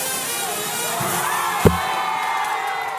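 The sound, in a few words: crowd cheering as Confederate statues are destroyed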